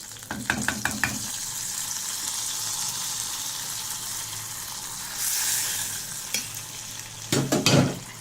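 A sizzling fried tempering for drumstick leaf and lentil greens crackles steadily in the pan, with a few sharp clinks of a spoon at the start and end and a brief hissing swell midway.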